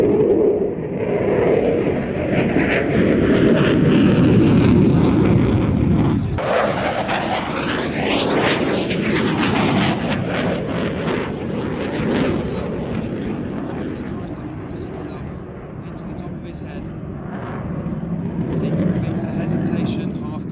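An aircraft performing knife-edge manoeuvres at the Midlands Air Festival air show, a loud close engine roar that swells and shifts in pitch as it passes, with a commentator talking throughout.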